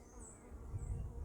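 Honey bees buzzing faintly in an outdoor bee yard, a soft continuous hum with no voices.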